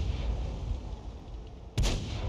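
A self-propelled artillery gun fires a single booming round in World of Tanks, loud and sharp near the end, over a steady low rumble of battle ambience.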